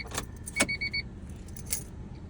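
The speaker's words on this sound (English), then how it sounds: "let's turn the car off right now" A car engine is switched off with a quick click, then keys jangle in short metallic rattles nearby, quiet and close, with no talk.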